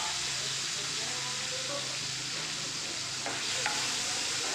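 Prawns frying with dried red chillies in a pan, a steady broadband sizzle with a few light stirring scrapes near the end, close and continuous.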